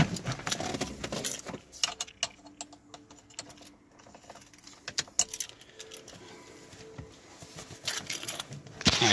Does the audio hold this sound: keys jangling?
yes